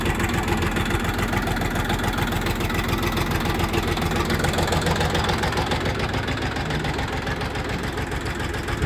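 A Chinese mini tractor engine idles while warming up, a loud, steady, close-up chugging with a fast even knock and no talking over it.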